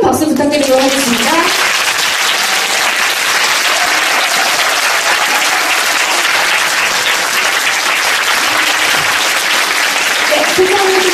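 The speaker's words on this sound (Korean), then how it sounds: "마지막으로 배우님들과 연출님께 큰 박수 부탁드리도록 하겠습니다" Sustained audience applause fills a theater after a Korean stage play's audience talk, dense and loud, with a few brief voices calling out at the start and end.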